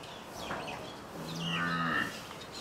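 A cow or calf at a goshala by a Shiv temple in Bhayandar lets out one drawn-out moo close by, rising and holding for about a second against faint background noise.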